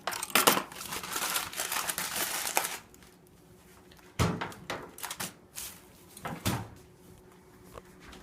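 Butcher's strings being cut and pulled off a smoked prime rib, with crinkly rustling and scraping bursts up close, a long noisy stretch followed by a few separate short handling sounds.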